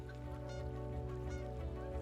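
A Sure Shot game call imitates a goose, giving repeated nasal honks in a quick rhythm, close and fairly clear over a low background drone.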